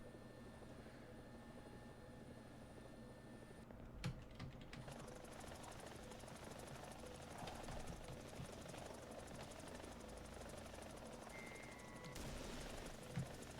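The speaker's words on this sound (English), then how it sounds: "this is your typical helicopter" A helicopter in the video game War Thunder: steady engine drone and rotor hum, fairly faint, continuing throughout with a few small clicks over it.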